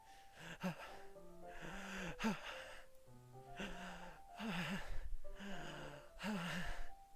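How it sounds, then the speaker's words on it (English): Heavy, strained breathing from Doki Doki Literature Club Plus: a series of about six loud, voiced gasping inhales and sighing breaths in a steady rhythm, close and alone with no talking. "It sounds like breathing."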